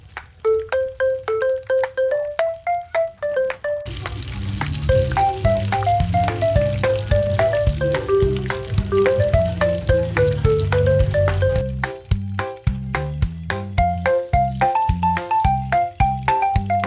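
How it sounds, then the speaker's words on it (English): Eggplant omelette with corned beef frying in a pan, a loud, steady sizzle of oil filling most of the stretch, broken by brief pauses, with music playing throughout. "Now cook the eggplant with corned beef on top."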